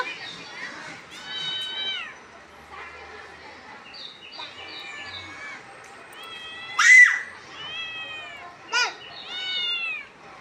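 A cat gives several clear, close meows in a row, some drawn out and rising, while children talk and call out around it.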